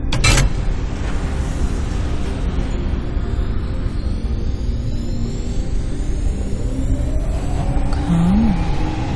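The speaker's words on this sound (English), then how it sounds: "Main thruster ignition." Main thruster ignition of a spaceship in a video game, a steady loud roaring rumble that holds throughout with a rising whine building toward the end.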